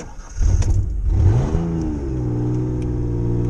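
Ford Ranger pickup engine with power problems running rich, revving up with a rising whine then settling into a steady, slightly uneven rumble close by.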